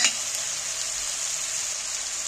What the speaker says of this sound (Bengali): এবার এখানে যে কাজু আর কিশমিশ সেগুলো তুলে দিচ্ছি এর মধ্যে